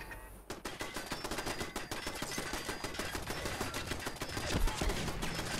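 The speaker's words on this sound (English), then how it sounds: "there's a bloody turret right here" Automated turret firing in the video game Fallout 4, a fast, continuous rattle of gunfire that starts abruptly and keeps going loud and close for several seconds.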